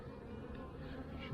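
Honeybees droning steadily in a nucleus hive during an open inspection, a dense continuous hum that holds close and fairly quiet for the whole moment with no voices over it.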